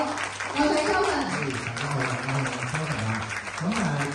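Warm applause at an indoor personal-insurance talk as a speaker is invited up, a dense continuous clapping over music-like tones throughout.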